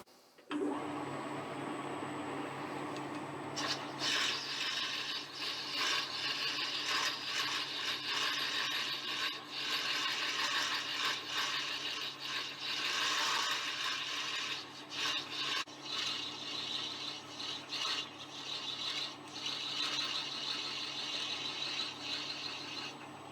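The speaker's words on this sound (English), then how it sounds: "So that's drilled out." Steady mechanical grinding and scraping of metal as a stationary engine truck wheel bushing is drilled out, continuous and close, with a motor hum underneath throughout.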